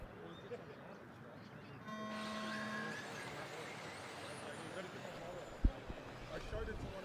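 Vintage four-wheel drive race cars sit on the grid as a steady start tone sounds, then engines rumble under a broad roar of crowd and ambient noise, with one sharp thump near the end.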